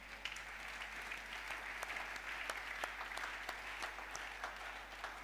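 A church congregation at a Sunday service applauds with steady, sustained clapping from many hands, fairly distant and soft, without speech over it.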